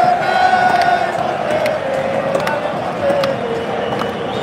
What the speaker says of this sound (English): we got some Monterrey fans behind me getting loud.